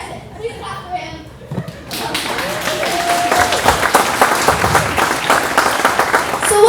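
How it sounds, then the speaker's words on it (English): Applause breaks out at a family gathering after a short stretch of quieter sound, a close, lively mix of claps and a few thumps that builds and keeps rising, with voices mixed in. "Please clap for him."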